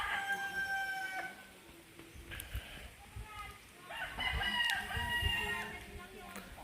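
A rooster crows twice at moderate distance, with quiet background noise and a few soft clucks between the calls.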